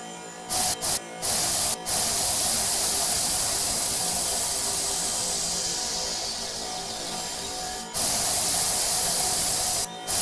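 In the game Inside Out, water evaporates into steam as a loud, continuous hiss that fills nearly the whole stretch, broken only by a few brief cutoffs.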